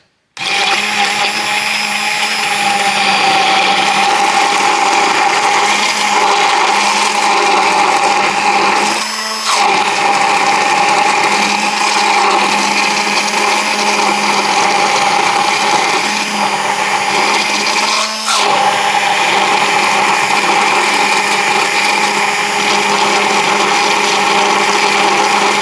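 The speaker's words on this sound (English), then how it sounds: "what I'm using is going to be an immersion blender" An immersion blender whirs loudly and steadily while whipping oil into homemade organic mayonnaise, running continuously with two brief dips in pitch as it moves through the mix.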